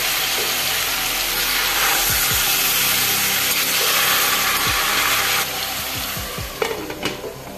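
Chicken in a green masala stirred in a pan over full gas, a steady loud sizzle and fry under repeated scraping strokes of a spatula, easing slightly toward the end with a few sharper clanks.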